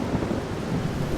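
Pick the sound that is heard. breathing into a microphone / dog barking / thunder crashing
thunder crashing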